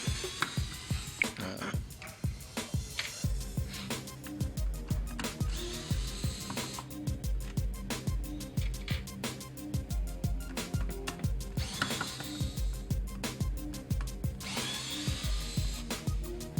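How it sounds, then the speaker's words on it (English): Shifter cover screws come out of a 2013-or-later Ford Focus ST with a power tool, a close series of rhythmic ratcheting clicks and short whirring bursts, no talking. "Remove the shifter cover screws."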